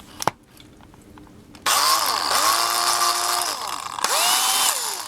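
A Black & Decker power drill, imitated for the job, whines loudly as it bores a small hole in an HO scale Varney 4-6-0 locomotive, running in two sustained bursts after a sharp click and near silence.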